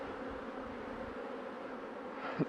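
A steady honey bee buzz hums continuously at low volume, like a mass of bees droning nearby, with a brief louder bump near the end.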